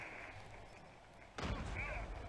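A grenade detonates in a Call of Duty match, a sharp loud blast breaking in after a stretch of quieter game noise and lingering as a rumbling tail.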